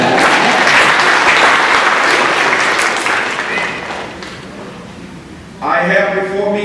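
Audience at a senior awards ceremony breaks into loud, dense applause that holds for several seconds, fades down, then swells again near the end.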